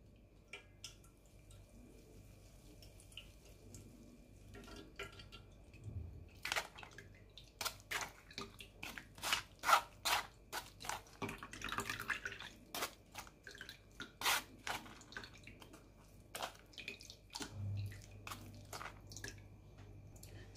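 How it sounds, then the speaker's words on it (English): Juice drips and splatters through a kitchen strainer onto a plate. The wet drips are irregular, close and fairly loud, with soft squishing between them and no voices. "pour this inside and strain out the juice"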